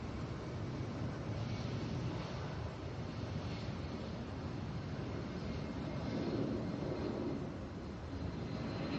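Boeing 757 airliner at Atlanta airport, a steady broadband jet roar heard from a distance, continuous and moderately loud with a slight swell near the end.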